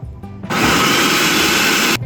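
A food processor whirs loudly up close as it blends dates into paste, giving a steady grinding roar that runs about one and a half seconds after a brief lead-in and stops abruptly.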